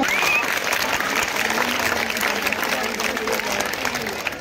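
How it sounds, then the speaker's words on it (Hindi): Steady applause from an audience at a government school Children's Day event in Delhi, a dense wash of clapping that carries loud and unbroken throughout, with a few voices mixed in underneath. "एक बार ताली।"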